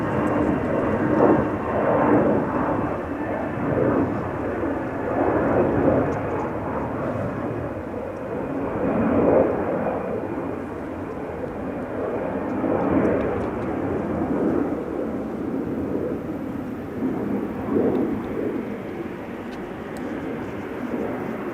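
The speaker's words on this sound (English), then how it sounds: "ITA A319 has just taken off from center, returning to Milan" An ITA Airbus A319 takes off at Amsterdam Schiphol, bound for Milan, its engines a broad, loud roar that swells and fades in waves and holds steady throughout, with no voices.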